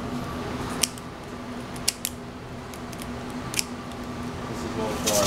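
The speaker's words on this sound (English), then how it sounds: "so I trim off all the fins first" Scissors trim the fins off an already scaled fish in a kitchen, giving a handful of sharp, scattered snips over a steady background hum.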